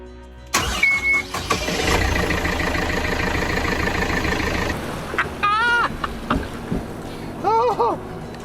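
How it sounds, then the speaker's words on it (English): A boat engine cranks and catches at close range, settling into a steady mid-pitched running drone for several seconds before cutting out, with people's voices and a few whoops over the end. "We're starting the engine"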